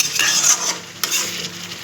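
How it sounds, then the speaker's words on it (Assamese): Fried fish pieces go into hot oil with tomatoes in a pan, giving a loud, steady sizzle broken by brief scraping stirs. "ধুনীয়াকৈ ভাজি লৈছোঁ এতিয়া দিছোঁ ফ্ৰাই কৰা মাছখিনি 4 পিচ দিছোঁ"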